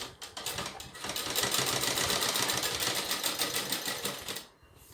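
Sewing machine double stitching elastic onto a skirt waistband, a fast rattling needle run lasting about four seconds, close and steady, then stopping.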